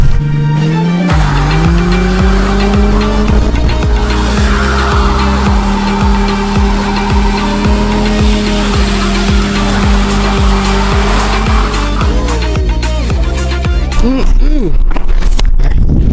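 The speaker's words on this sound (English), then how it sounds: "Let's break in these tires." A Ford Mustang with new wheels, springs and exhaust breaks in its new tires. Loud continuous tire squeal rides over a rumbling, revving engine with rhythmic pulsing, and a voice talks over the noise.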